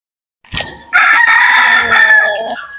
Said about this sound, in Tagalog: Ito mga idol, sobrang laking manok mga idol.